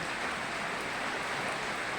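Rain falls steadily, a dense, even wash of hiss that stays loud and unbroken throughout, with no voices.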